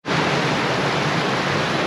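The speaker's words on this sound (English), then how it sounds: "There's some of the waterfall" The Danska Fallen waterfall in Sweden roars as a loud, steady broadband rush of falling water, close and unbroken, with no voices over it.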